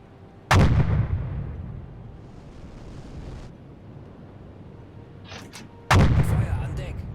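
A U-boat deck gun fires twice in a naval war video game at high realism, each shot a loud sharp boom with rumbling decay, separated by a stretch of wind and sea noise.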